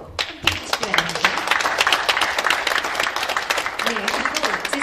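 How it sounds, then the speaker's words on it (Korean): A crowd at a political rally claps vigorously, a thick, steady wash of applause that starts abruptly and holds at an even level, with some voices mixed in. "네, 모두 힘찬 박수로 함께해 주시기 바랍니다."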